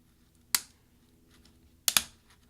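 A plastic key on a mid-2010 13-inch MacBook Pro is pried off its plastic scissor hinge with a tool, giving one sharp click followed later by a quick double click, close and otherwise quiet.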